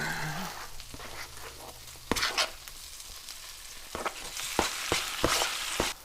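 Duck meat and vegetables fry in a pan with a constant crackling sizzle, broken by several sharp clacks and scrapes of stirring, and no voices.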